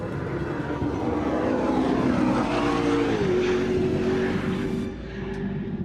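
A McLaren P1 hypercar engine roars steadily nearby, a smooth sustained drone with a rising whine that shifts pitch midway, then eases off near the end.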